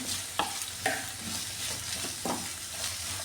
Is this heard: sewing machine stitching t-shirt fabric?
no